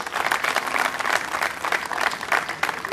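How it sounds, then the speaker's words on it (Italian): A crowd at a Spoleto youth football school claps steadily, with thick, continuous applause that carries through the whole short moment without pause. "voglio sentire l'applauso"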